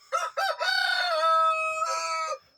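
A large rooster kept with backyard chickens crows nearby, loud and alone, in one long cock-a-doodle-doo with a few short opening notes before a drawn-out final call.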